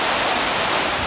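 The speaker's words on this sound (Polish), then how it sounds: "A zobacz, jak pięknie fale się rozwijają." Sea waves breaking on rocky coast at Gozo, Malta, a loud continuous rushing wash of surf with no distinct breaks, close and dense, mixed with some wind.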